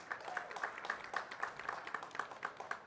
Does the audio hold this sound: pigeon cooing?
no